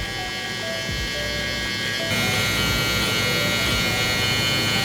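An electric hair trimmer buzzes steadily and close up while shaving a low taper fade at a barber's chair, its motor tone unbroken throughout and growing slightly louder partway through.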